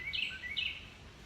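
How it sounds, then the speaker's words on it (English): Loud bird calling outdoors, two short bright chirping phrases in quick succession, the second sounding like an answer, fairly faint against a quiet background. "My loud bird is back and being answered"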